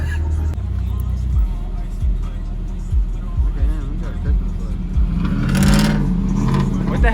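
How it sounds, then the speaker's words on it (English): A car drives by on a snowy street, its engine swelling up and then fading near the end. Voices talk over it, and a few dull thumps are heard earlier on. "What the hell's that car doing?"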